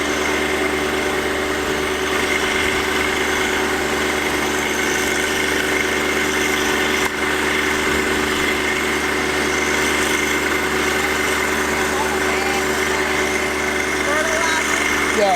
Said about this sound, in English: My man can't get this tractor straight in this one little line